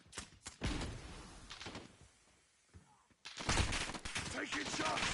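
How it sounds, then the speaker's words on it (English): Gunfire in the video game Call of Duty Modern Warfare, loud bursts of automatic shots, a quieter lull with scattered thuds, then a heavy sustained barrage, with game voices mixed in. "Taking shots!"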